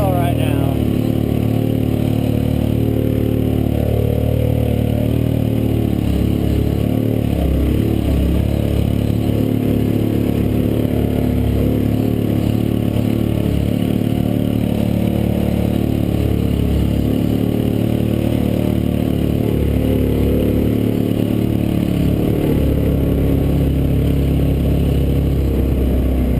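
Massimo MSU400 4x4 side-by-side engine held at full throttle on a creek run, giving a loud, steady droning roar that holds for the whole stretch with rough clatter over it.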